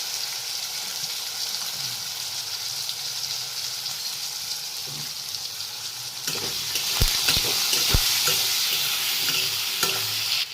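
Potatoes fry in hot oil with turmeric and salt, a steady broadband sizzle that grows louder partway through as stirring begins, with sharp scraping knocks of a utensil against the pan.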